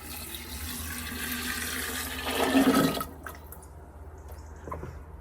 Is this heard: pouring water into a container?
yes